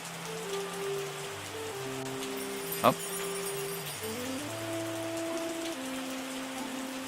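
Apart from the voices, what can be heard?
rain falling in video game Terroir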